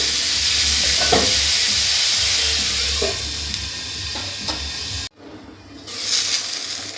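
Drumstick stems frying in a pan on low gas give a steady, close sizzle and hiss with a few soft stirring scrapes, then a brief drop to quiet before a fainter sizzle returns.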